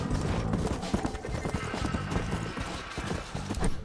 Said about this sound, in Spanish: Nah, este caballo es lentísimo.